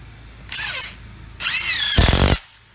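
A power drill drives screws into a light trap fan housing in two short whirring bursts that rise in pitch, the second ending with a heavier grinding thud as the screw seats.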